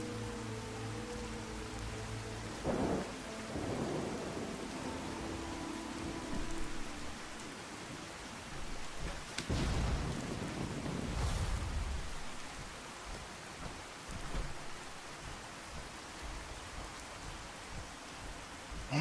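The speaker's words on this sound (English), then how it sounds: "it is a bit rain happy here" Steady rain hisses throughout in the video game Fallout 4, with a few low rumbles of thunder rolling in, the loudest around the middle, all without any talking.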